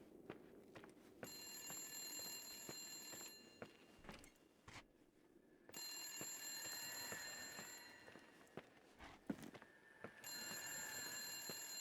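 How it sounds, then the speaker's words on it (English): A telephone rings inside a horror exploration game, its bright electronic bell sounding in several long bursts separated by short pauses, with faint footsteps between rings. "Oh, I hear a phone."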